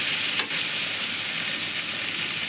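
Spices for a mourala fish chochchori with vegetables and beans fry in a pan with a steady, close, bright sizzle, and a single stirring scrape comes early on.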